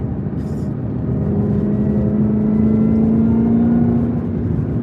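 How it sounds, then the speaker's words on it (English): A 2021 Camaro ZL1 1LE runs with a steady, loud engine drone, and the thin whine of its supercharger rises slightly on top. The sound is continuous and close, heard from inside the car. "that supercharger just constantly whines"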